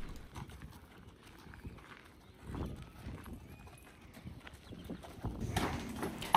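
Belgian draft horses walk at a vet's office after a snowstorm, their hooves clip-clopping in a loose, uneven rhythm at moderate distance, with a person speaking quietly now and then.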